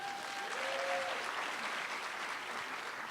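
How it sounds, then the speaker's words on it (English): An audience at a film festival's 16th-year event applauds: steady, dense clapping holds at full strength for the whole stretch, with no voices over it. "Give yourselves a round of applause."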